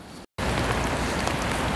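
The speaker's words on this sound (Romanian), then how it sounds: "Cam plouă astăzi" Rain falls outdoors at Hilton Castle, a dense steady hiss of drops on surfaces that cuts out briefly, then returns at full strength.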